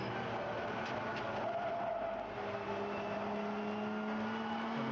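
GT race car at Sepang circuit accelerating with oversteer, its engine note rising steadily under throttle with faint tire scrub, heard somewhat distant and continuous.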